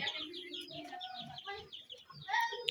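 Tiger breed chicken chicks kept in a fenced pen, giving a close, busy chorus of high cheeping and clucking calls that overlap for the whole stretch.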